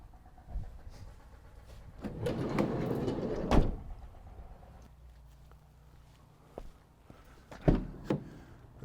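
The sliding side loading door of a 2016 Vauxhall Vivaro 1.6 CDTi van rolls along its track with a rumbling slide ending in a solid thud, followed by a couple of sharper latch knocks, close and fairly quiet.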